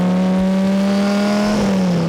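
Ferrari 512 TR flat-twelve engine held at a steady high rev, loud and close, its tone wavering slightly before easing down at the end.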